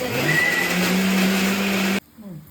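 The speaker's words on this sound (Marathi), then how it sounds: "मिक्सरला फिरव थांब नाही तर राहू दे मी फिरवते" A kitchen mixer grinder running, a loud steady whirring motor whine that holds for about two seconds and then cuts off abruptly, leaving quiet room sound.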